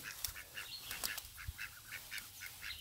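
Muscovy ducks on a homestead give soft, repeated breathy calls at a steady rhythm, fairly faint, with a few louder honks and quacks from other fowl nearby.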